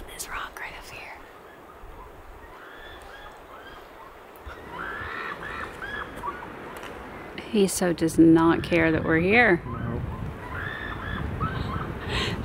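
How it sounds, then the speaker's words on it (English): Geese honk in a short, loud burst of calls near a rocky coast with seals. Soft whispered talk runs over quieter background sound before and after the honking. "There's a bird making a lot of racket there."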